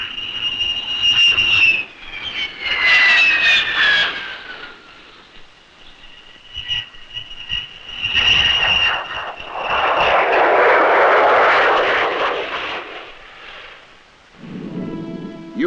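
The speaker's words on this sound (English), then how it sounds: "the fighters return to Balati Air Base" Jet fighters flying back to Balati Air Base during a 1964 military exercise, engine roars swelling and fading as several aircraft pass, loud and sustained with a rushing, whining quality.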